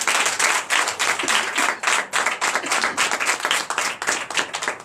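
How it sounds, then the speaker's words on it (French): A church congregation at a Sunday worship service in Comè, Benin, claps loudly and steadily, a dense burst of hands filling the room with rhythmic surges and no talking. "Donc je vous demande d'applaudir très fort pour les Ivoiriens."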